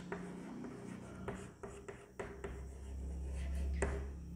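Chalk or marker strokes on a board sound in short, scratchy bursts, several quick separate marks close by against a low background hum, with no talking.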